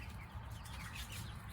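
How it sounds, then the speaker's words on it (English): A large fowl Cochin rooster on a farm gives low, soft clucks that continue steadily against a noisy outdoor background. "This is my large fowl Cochin rooster."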